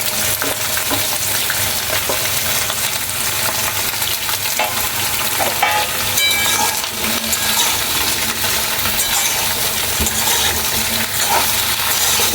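Beans, potato and radish frying in a pan, giving a loud, continuous close sizzle with scattered crackles and small knocks from stirring.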